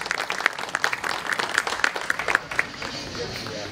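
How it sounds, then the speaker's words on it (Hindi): Applause from a crowd at a cultural festival dance performance, with uneven, fairly close clapping that fades out toward the end, leaving quiet room noise. "जोरदार तालियों के साथ।"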